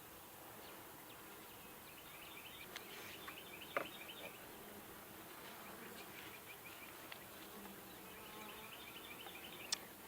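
Honey bees in an open horizontal beehive, producing a faint, continuous close buzzing drone with a few soft knocks and clicks, and no talk.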